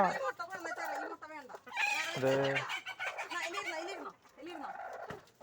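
Country hens clucking close by in a backyard flock, a run of repeated clucks and squawks with one longer, drawn-out call in the middle.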